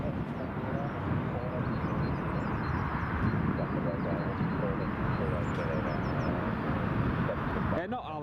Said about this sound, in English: Well, that's a Ryanair off to Alicante away.